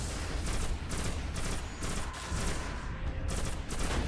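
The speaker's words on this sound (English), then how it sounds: "he just fired a massive cannon at me" Heavy cannon fire and rapid weapon blasts from the Destiny video game, a dense, continuous barrage of gunfire-like bursts filling the whole stretch at steady loudness with no talk.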